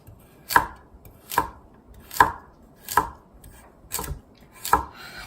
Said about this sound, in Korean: 우엉은 제가 어서 썰기를 할 거예요.